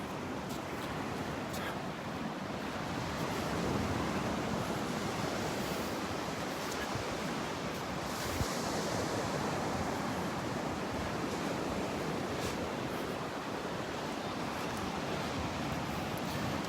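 Ocean surf washes onto a Gulf beach at Delnor-Wiggins while a north wind buffets the microphone, making a steady, broad roar of waves and gusts with no talking.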